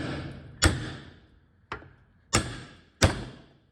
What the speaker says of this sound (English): And I'm just going to use this hammer